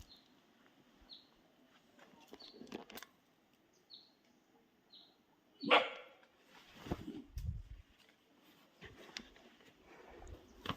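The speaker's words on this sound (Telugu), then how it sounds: "కుక్క వచ్చింది రో" A dog barks a few times at a distance amid quiet outdoor ambience near caves in Tripura, with faint bird chirps and scattered rustling noises.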